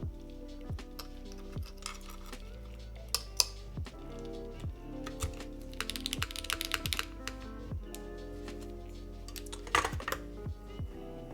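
Computer keyboard being typed on in bursts of quick, close, crisp key clicks with a few louder clacks, continuing steadily throughout with no talking.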